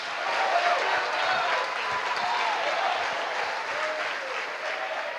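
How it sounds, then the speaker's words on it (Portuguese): A church congregation at a Sunday worship service claps together, a steady, roomy wash of many hands heard from a slight distance, with faint tonal sounds under it. "Aplauda Jesus."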